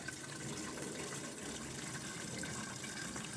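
Water being poured into the cooling system of a Subaru WRX wagon, a continuous gushing, splashing flow held at an even level and heard up close.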